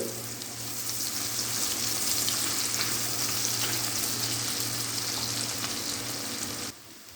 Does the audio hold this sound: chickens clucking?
no